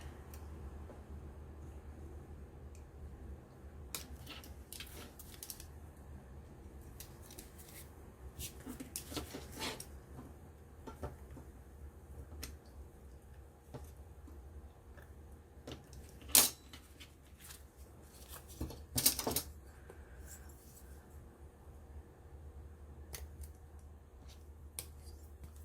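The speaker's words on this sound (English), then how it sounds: "And then I will just use my knife to cut out the last bits." Craft knife slicing through card while trimming pieces for a shaker card, a few short scraping cuts and sharp snicks at close range, with quiet handling noise between them.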